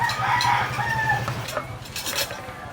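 Several chickens cluck and squawk close by as they feed on papaya, with busy overlapping calls and soft pecking through the short stretch.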